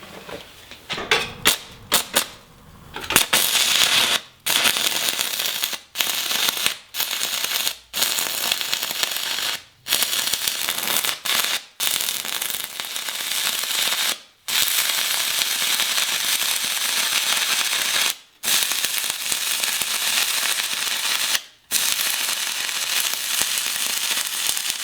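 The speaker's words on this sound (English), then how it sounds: "And then you'll just hold this right here and you'll weld right along." Arc welding powered by car batteries through jumper cables on a trail repair, a loud, close, continuous crackling sizzle broken by repeated short gaps where the arc stops and restarts, with no talk.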